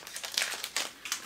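Crinkling plastic wrapper of a crunchy honey chocolate bar being torn open: three or four quick rustling bursts, close and crisp, with no talking.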